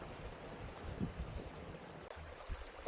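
A river runs beside a hiking trail on Mount Kotkot in Central Itogon, giving a steady, moderately close rush of flowing water with soft wind on the microphone and no voices.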